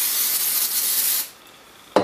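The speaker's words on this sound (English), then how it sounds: "and spray it with this accelerant" Accelerant sprayed onto glue during papercraft box assembly: a steady hissing aerosol burst for about a second, then a short quiet pause and a brief sharp knock at the end, close and clear with no talking.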